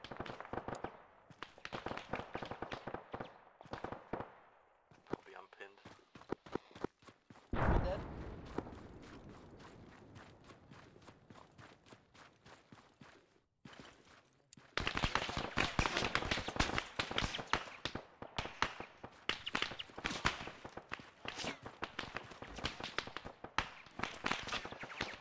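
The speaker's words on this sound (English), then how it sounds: "Lots of fucking MG fire coming up, 200, over." Arma 3 combat with dense bursts of rapid machine gun fire, sharp and crackling, coming in clusters and intensifying in the second half, mixed with radio voices talking.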